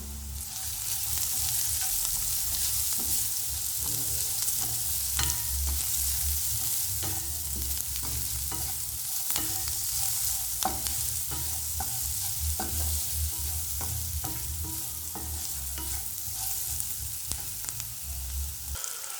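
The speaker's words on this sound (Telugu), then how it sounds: "1 టేబుల్ స్పూన్ పసుపు, 1 టేబుల్ స్పూన్ సాల్ట్ అనేది వేసుకుందాం. వీటిని ఒకసారి కలుపుకుందాం." Sliced onions fry in a pan with turmeric and salt for a bottle gourd curry. A spoon scrapes and stirs through them in repeated strokes over a constant close sizzle, with no voices for the whole stretch.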